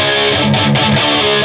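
Distorted electric guitar riff, a dense, loud wall of crunchy tone with choppy palm-muted chugs, played alone.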